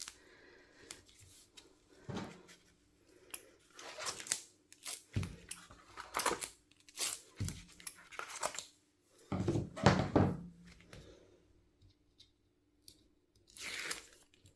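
Backing peeled off double-sided foam tape while making a shabby chic vintage birthday card: a close, irregular series of short crinkly ripping and tearing bursts, with quiet pauses between pulls and no talking.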